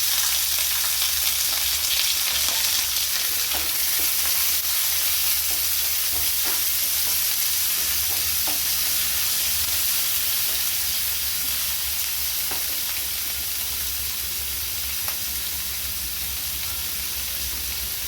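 A dry red chili, whole cumin, chopped onion, tomato and green chili fry in oil, making a loud, steady hiss and sizzle with occasional faint stirring taps throughout.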